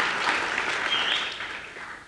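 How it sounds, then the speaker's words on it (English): An audience on its feet gives a standing ovation at a real estate deal-making seminar, a brief dense roar of clapping from many hands that gradually softens. "On your feet and a round of applause for Mr. Leon Johnson."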